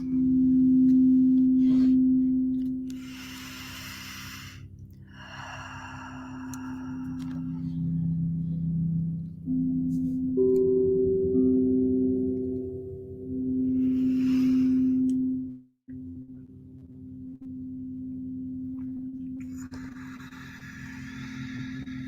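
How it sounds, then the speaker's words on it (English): Soft meditative tones for a guided relaxation, sustained pure humming pitches that shift and overlap, with brief brighter chiming accents, steady and close, without talking, and a short dropout near the end. "I'm going to play little tones."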